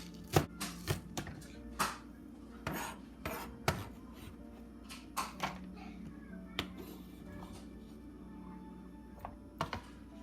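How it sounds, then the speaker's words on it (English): Knife chopping ginger and scallion whites finely on a cutting board: rapid, irregular sharp taps at close range, clustered in bursts with short pauses, alone without talk. "The white part we cut. We just chop it as small as possible,"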